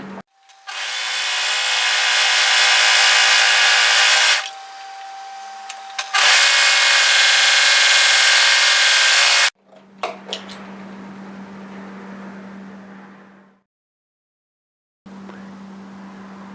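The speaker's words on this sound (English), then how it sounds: "We need to overlock tidy the inside edge." An overlocker sews the inside edge of a varsity bomber jacket, a loud high-speed whirring run that stops briefly and starts again, followed by a quieter lower motor hum and a steady low drone.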